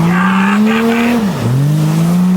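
A car spins around with its tires skidding during a deliberate car-wrecking session, a loud, close, sustained screech with the engine tone dipping and then rising again.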